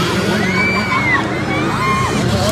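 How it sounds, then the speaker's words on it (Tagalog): A crowd at a kids' open category race shouting and cheering loudly, a continuous roar of voices with rising yells and whoops over the din. "Sigawan yung mga tao."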